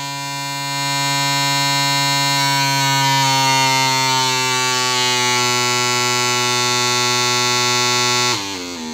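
A 140 Hz test tone through a 3-inch mid-range woofer, a loud, steady buzzing hum with harsh harmonics that holds for about eight seconds, then shifts pitch abruptly near the end.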